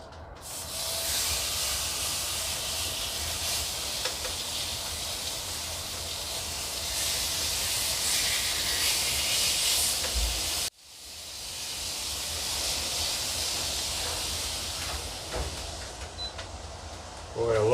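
Loud, steady sizzling hiss of a ribeye steak searing in a hot cast iron pan, broad and continuous, briefly cut off midway before resuming.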